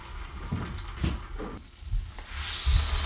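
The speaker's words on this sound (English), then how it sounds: "So we're just browning that off, just giving it a little bit of flavour, a little bit of colour." Meat seasoned with mustard and salt browns in a hot pan, giving a steady close sizzle with occasional louder spits and stirring scrapes, no voices.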